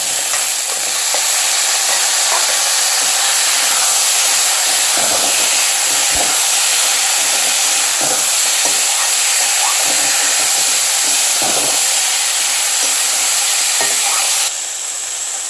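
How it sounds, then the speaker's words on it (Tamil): Pumpkin and other vegetables sautéing in a pan, a loud continuous sizzle and hiss with occasional soft scrapes of stirring, close and steady throughout with no talking. "இதோட காயும் சேர்த்து வதக்கலாம் பரங்கிக்காய்"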